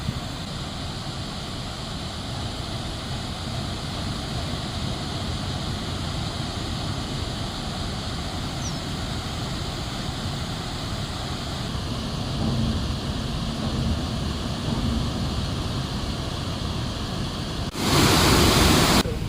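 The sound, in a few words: flood water rushing out of opened dam gates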